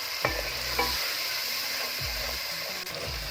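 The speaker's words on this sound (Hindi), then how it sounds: "ये देखें ये अच्छे से भून रहा है।" Potato, chickpea and yogurt paste fries in a pan at a steady close sizzle, with a few sharp stirring scrapes and knocks against the pan recurring throughout.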